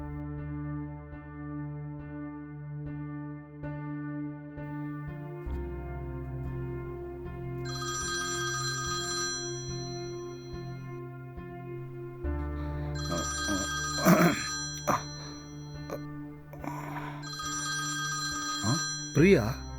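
A telephone ringing while someone places a call, heard as repeated bright ring bursts in several spaced groups over a steady, low, musical drone.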